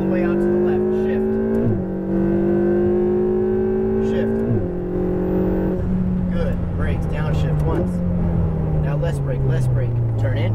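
A Ferrari 488 GTB engine revs hard on a race track, climbing in pitch through several quick gear shifts and then settling into a steady drone, loud and close, with an instructor talking over it.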